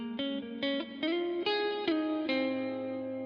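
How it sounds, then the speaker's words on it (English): A soloed guitar plays a gentle improvised fill of about six plucked notes, each ringing out with a long, spacious reverb tail that blurs into the next, quiet and alone. "There's lots of reverb on the guitar, which makes it very spacious"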